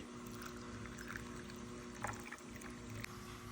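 Water pours softly and steadily into a glass, a quiet continuous trickle close by with no voices.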